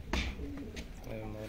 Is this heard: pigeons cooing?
yes